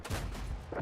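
Tank cannon fire in the World of Tanks video game, from a Strv M/42-57 tank destroyer: two loud booming shots with low rumble, one near the start and one near the end, separated by sustained low-frequency battle ambience.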